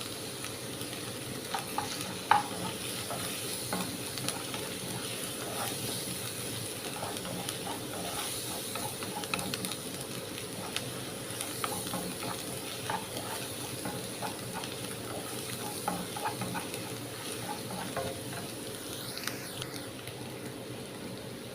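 Curry leaves hiss in hot oil while squid roast is stirred. The sizzle is a steady, fairly quiet bed with faint scraping from the stirring, and no voices.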